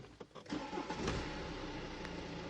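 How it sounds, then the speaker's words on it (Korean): A BMW 520d 5 Series (sixth generation) diesel engine cranks briefly, catches, then settles into a steady, even idle, close by. "바로 이 차량 시동 한번 걸어보겠습니다"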